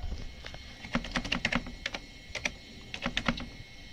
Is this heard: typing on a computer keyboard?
yes